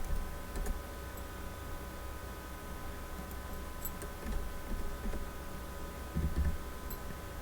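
Quiet computer keyboard typing while entering an HTML img tag, a steady patter of soft key clicks over a faint electrical hum, with no talking.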